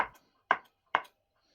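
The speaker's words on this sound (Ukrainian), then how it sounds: "крашанки нарізаю на кубик не дуже маленький" Three sharp knife chops through boiled eggs on a cutting board, evenly spaced, each a crisp knock that fades quickly into silence.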